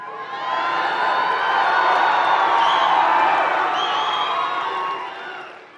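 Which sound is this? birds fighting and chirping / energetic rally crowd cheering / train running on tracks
energetic rally crowd cheering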